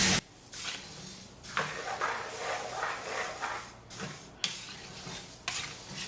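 Spices being dry-roasted in a pan for Sri Lankan curry powder, stirred in steady sweeping scrapes with a light sizzle, close and fairly quiet, with brief knocks between strokes.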